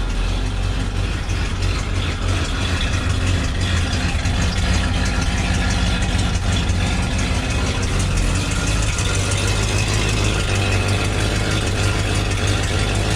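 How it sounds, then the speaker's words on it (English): A Ford F100 pickup truck engine idles roughly with a holed muffler, giving a steady, loud low rumble with an uneven chug throughout, close by and with no talking. "It might idle a little rough for a minute."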